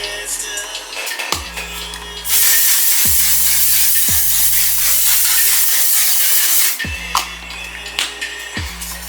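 A setting spray mists onto a face during a soft glam makeup routine, a single loud continuous hiss lasting about four seconds, framed by small clicks and handling sounds.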